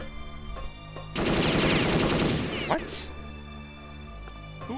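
Gunfire in Perfect Dark, a sustained rattling burst for about a second and a half amid game sounds, followed by a sharp higher blast, with a voice speaking around it.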